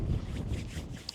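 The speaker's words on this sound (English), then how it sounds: "Windy, beautiful." Low, blustery wind buffeting the microphone on an open Isle of Man hillside, rumbling in uneven gusts and fairly loud throughout the short moment, with no talking.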